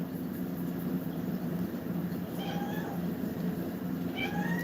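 A cat meows twice in short rising cries, one midway and one near the end, over a steady low background hum.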